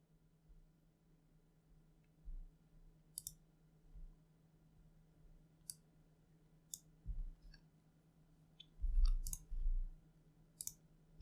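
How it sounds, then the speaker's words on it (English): Computer mouse clicks while adjusting VirtualBox settings, a few sharp isolated clicks scattered irregularly over quiet background with faint low thumps. "Then click on OK and start."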